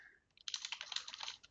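Rapid typing on a computer keyboard, close and crisp, a dense run of light key clicks starting after a brief pause and continuing steadily to the end.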